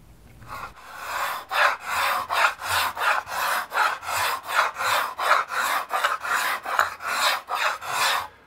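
A spokeshave shaves wood in a woodworking shop, making repeated rasping strokes in a steady rhythm, about fifteen even passes, close and fairly loud with no voices.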